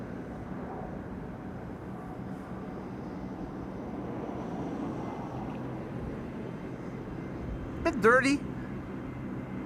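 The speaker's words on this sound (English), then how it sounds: "an A321neo passing by over here" An Airbus A321neo passes by at Amsterdam Schiphol Airport as a steady broadband roar that fills the background throughout, with a brief spoken remark near the end.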